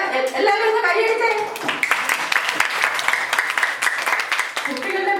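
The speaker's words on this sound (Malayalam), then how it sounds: "എല്ലാവരും ഒന്ന് കൈയടിച്ചേ." Children at a holiday seminar burst into a round of hand clapping after a song, sharp irregular claps building and fading, with a speaking voice and kids' voices before and under it.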